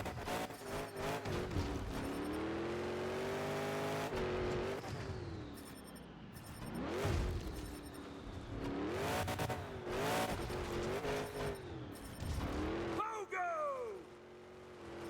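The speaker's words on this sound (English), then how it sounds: "There we go, drifting around." Monster truck engine roars and tires squeal as it drifts in the Monster Jam Showdown video game, the revving pitch sweeping up and down continuously over loud game noise, with a voice talking over it.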